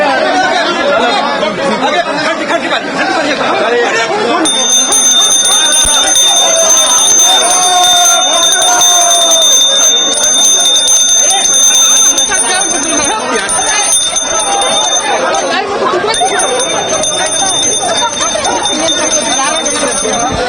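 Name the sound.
bicycle bell ringing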